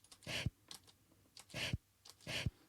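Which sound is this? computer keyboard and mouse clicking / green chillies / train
computer keyboard and mouse clicking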